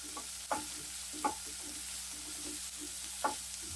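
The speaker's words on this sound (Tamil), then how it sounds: "வெங்காயம் நல்லா வதங்கட்டும்" Onions sautéing in a pan with a steady broadband sizzle, broken by a few sharp clicks of a utensil scraping and stirring; no voices.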